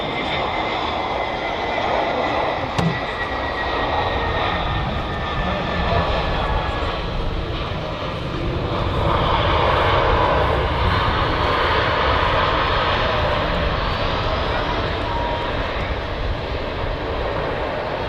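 EasyJet airliner jet engines at Manchester Airport make a loud, close roar that swells around the middle and stays strong to the end, with voices faintly present at times beneath it.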